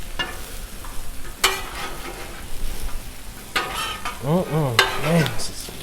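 Pork chops and potatoes frying in butter on a Blackstone griddle, with a steady sizzle under spatula scrapes and stirring clatter, plus a few short tonal squeaks or chirps near the end.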